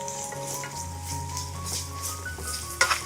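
Shrimp roast sizzles and fries steadily in a pan over a medium flame, with soft scraping of stirring and a sharper clink of the utensil near the end.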